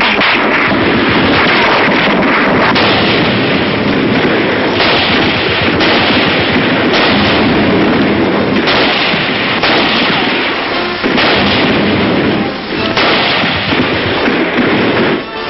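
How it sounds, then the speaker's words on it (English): Street fighting in Cherbourg, with sniper and rifle fire crackling in a dense, loud, continuous barrage of shots and reports over a harsh, noisy background. "But the Yanks can do a bit of sniping themselves."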